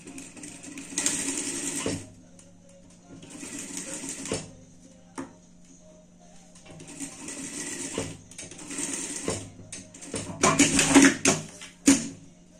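Sewing machine stitching a fabric Christmas hat with ear openings for pets, running in several close, buzzing bursts separated by short pauses, with no talking.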